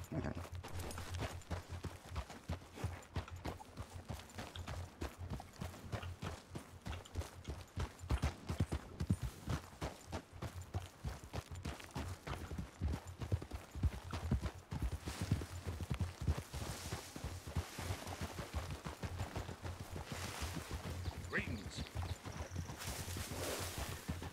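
Steady clip-clop of several horses trotting in the Wild West game RedM, continuous hoofbeats mixed with game ambience, while people talk over it.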